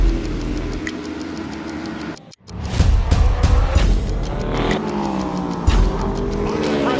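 A Tyler Cycle BMW race motorcycle screams down a straightaway in the 2025 season-opening race, its loud engine shifting in pitch as it passes, with race-broadcast commentary talking over it.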